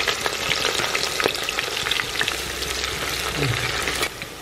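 Onions and whole spices frying in a pan for a simple biryani, with a steady loud sizzle and occasional stirring scrapes, close and continuous with no talking.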